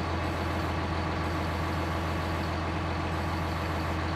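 Tractor engine in a Farming Simulator video game, a steady low idling drone with an even mechanical throb, constant and close with no variation across the stretch.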